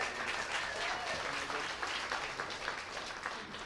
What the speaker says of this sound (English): Go ahead, clap for Vince Fong.